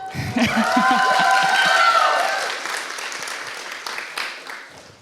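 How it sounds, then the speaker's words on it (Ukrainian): Stand-up comedy audience bursting into loud, sustained applause with scattered cheers, clapping swelling at once and then tapering off over several seconds in a club room. "Аплодисменти майбутній Каті, яка менш йобнута."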